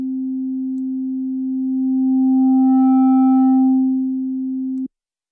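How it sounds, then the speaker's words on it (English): A single sustained low sine tone with a faint buzzy edge of mild saturation distortion, made in FL Studio, swelling slightly louder midway before cutting off abruptly. "this is saturation, by the way, so this is like mild distortion"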